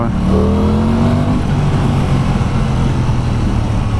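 An Aprilia Tuono 660 Factory motorcycle accelerates hard, with a loud, continuous engine drone rising in pitch and heavy wind rush close to the rider.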